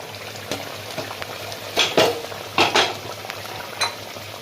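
Mustard hilsa curry (shorshe ilish) simmering in an open pan gives a steady soft sizzle and hiss, broken by a few brief utensil clinks and scrapes.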